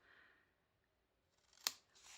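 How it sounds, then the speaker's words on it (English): A single sharp scissor snip through paper for a handmade mini album, close and crisp, following a quiet stretch and soft rustling. "So I'm going to get my scissors"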